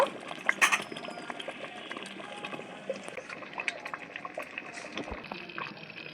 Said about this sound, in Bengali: দেখুন বন্ধুরা আমের আচার এখনো ফুটছে